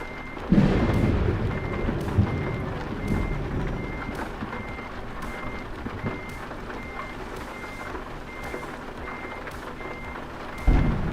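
Truck reversing beeps from American Truck Simulator sound as a steady, evenly spaced series of tones over a low engine rumble while the rig backs into a parking spot, with a heavier thump near the end.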